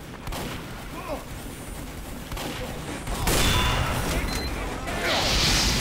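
Gunfire and metallic clangs from Team Fortress 2's Mann vs Machine mode, with sniper rifle shots, sustained, loud and busy, growing denser toward the end, under a talking voice.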